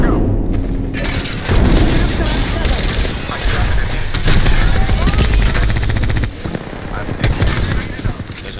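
Dense Apex Legends firefight: rapid automatic gunfire rattles almost nonstop alongside booming blasts from an Arc Star grenade, loud and close throughout.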